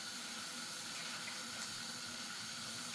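Hot water runs steadily from a kitchen tap for washing during cooking prep, a continuous soft hiss of flowing water close by and fairly quiet, with no talk.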